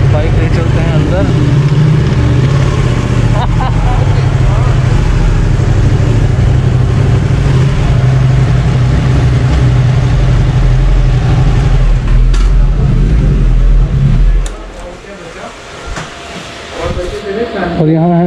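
A motorcycle engine running loud and steady while the bike is ridden into a dirt-bike store in Rajouri, with a deep continuous rumble that drops off sharply near the end, and someone talking over it.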